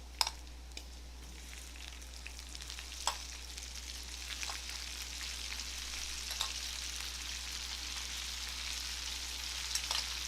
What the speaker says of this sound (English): So now that the bacon is really ready to go, it's starting to crisp up. This is where I'm going to add some onion.